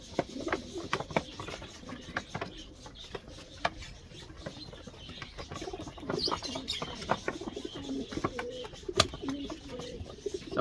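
Breeding racing pigeons coo in soft, repeated low calls close by, mixed with light chirps, wing flutters and scattered tapping, with no talk.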